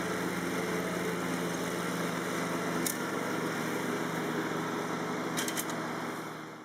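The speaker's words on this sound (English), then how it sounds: "Might seem like a boring job mowing the lawn" A lawn mower runs steadily while mowing a lawn on a farm, its engine drone loud and constant, with a few faint ticks near the end before it fades slightly.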